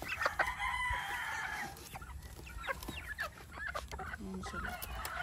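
Rhode Island Red chickens cluck and a rooster crows amid farmyard background noise in a breeding area, fairly faint and at a distance.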